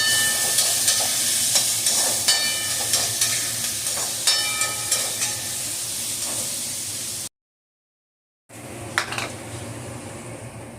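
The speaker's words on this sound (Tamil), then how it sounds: "வெங்காயம் கொஞ்சம் வந்து நல்லா வதங்கட்டும்" Onions and garlic sauté in a pan for Tamil brinjal thokku with a loud, steady sizzle. Regular scraping stir strokes run through it, then a brief silence before the frying hiss returns with a clatter.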